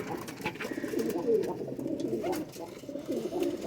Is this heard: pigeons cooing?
yes